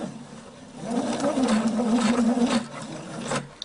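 A sewing machine stitches a waistband along the groove of interfacing tape, giving a steady mid-pitched whir that runs for about two seconds and then slows and stops, with no talking.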